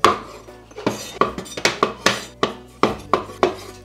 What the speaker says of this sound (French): Les champignons de paille, c'est pareil, on va les couper en 2.